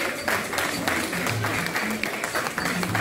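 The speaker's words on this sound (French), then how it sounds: "On peut l'applaudir" Audience clapping at a festive indoor gathering, a short burst of steady applause filling the room, moderately loud and continuous.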